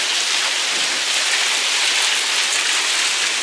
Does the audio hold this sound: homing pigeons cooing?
no